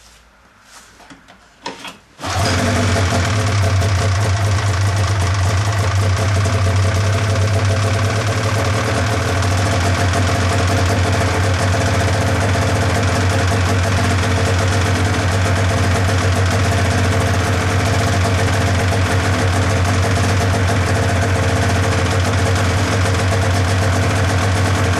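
A Ski-doo MXZ 700 snowmobile engine starts after a brief quiet moment, then settles into a loud, steady idle with a strong low rumble that runs unbroken to the end.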